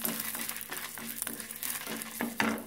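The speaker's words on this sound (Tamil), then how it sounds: "மணி 8 மா இப்போ இந்த வத்தல போட்டுறலாம்" Dried vathal fries in hot oil in a pan for curry leaf kuzhambu, a loud close sizzle with repeated stirring scrapes at an uneven rhythm, with no talking.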